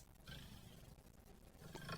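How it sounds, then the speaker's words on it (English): A lion roar sample played back by Siri on iOS 14.3: a single sustained, rumbling roar that stays loud for about two seconds, with no talking. "A lion sounds like this."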